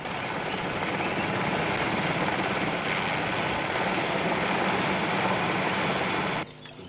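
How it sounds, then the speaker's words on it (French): A helicopter drones steadily with a throbbing rotor and engine whine, fairly faint, then cuts off abruptly near the end; no one speaks. "Ah non, c'est plutôt un hélicoptère."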